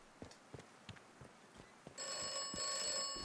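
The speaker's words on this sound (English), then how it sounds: "Phone gonna ring again?" In the video game Atomfall, footsteps thud steadily and then a telephone starts ringing loudly with a bright, sustained electronic bell tone that continues to the end.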